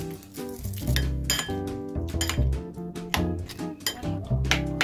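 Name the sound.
stirring microwave popcorn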